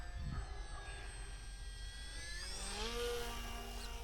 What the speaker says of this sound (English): Come right at us, low pass, right overhead, back up and over.